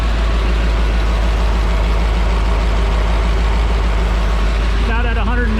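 The Boneshaker truck's engine runs steadily, a dense, loud, continuous rumble with a throbbing low idle, and a voice briefly breaks in near the end.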